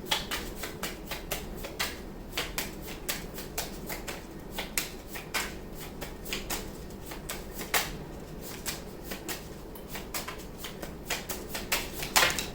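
Tarot cards being shuffled, a quick run of crisp, papery clicks and flicks repeating steadily, close by and fairly quiet, with no talking.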